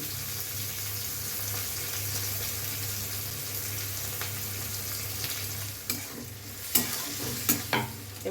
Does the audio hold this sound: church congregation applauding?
no